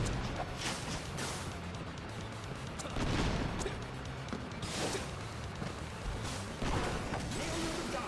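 A giant tank in a video game battle, grinding mechanical clanks mixed with repeated bursts of gunfire and impacts, fairly faint overall, with periodic louder volleys.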